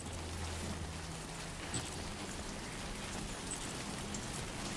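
Steady rain hisses in a video game as a character climbs a steep hill, a dense, even wash of falling water with faint low tones underneath and no talking.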